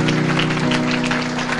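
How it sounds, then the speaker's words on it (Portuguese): Church congregation breaks into a short burst of clapping, with a sustained musical tone, likely organ or keyboard, and crowd noise underneath. "a igreja dá uma salva de palmas"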